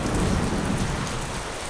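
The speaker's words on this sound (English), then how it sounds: "It's still raining." Heavy rain pours down steadily in a dense, loud hiss with a low rumbling undertone, continuous and close, with no voices.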